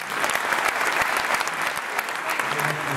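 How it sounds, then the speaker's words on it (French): Dense, continuous audience applause at a public event about urban renovation, fairly loud and steady throughout, with some voices faintly mixed in. "On peut applaudir."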